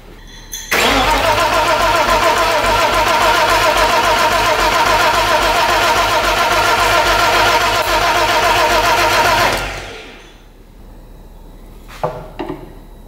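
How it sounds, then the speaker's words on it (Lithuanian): A BMW E30 engine, part of a project car being brought back to life, cranks over loudly and steadily for about nine seconds before cutting off, leaving quiet surroundings with a couple of faint knocks. "ar prasisuka tvarkingai variklis, jokių garsų pašalinių ir panašiai"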